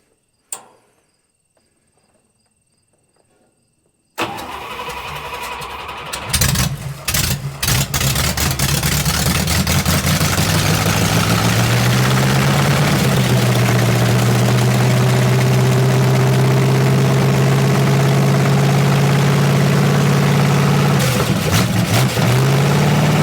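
After a few seconds of near silence, a 1956 barn-find dragster engine with an unhappy carburetor cranks and fires, then runs loud and rough at a steady, uneven idle with occasional stumbles.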